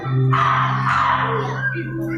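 A storyteller mimics bird calls for kindergarten children, a wavering chirpy whistle held over a steady low hum, continuous and fairly close for about two seconds.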